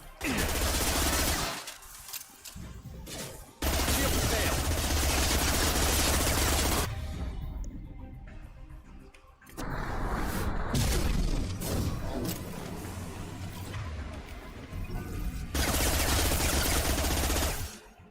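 Heavy bursts of gunfire from a Mass Effect 2 firefight roar loud and dense in long sustained volleys, each run broken by brief pauses, with no talking over it.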